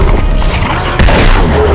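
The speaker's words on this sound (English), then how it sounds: "it only takes a single shotgun blast to kill a Yeti" A shotgun blast against a Yeti in Uncharted 2: Among Thieves, heavy, loud booming gunfire in a dense, noisy game mix, with a sharp blast about a second in.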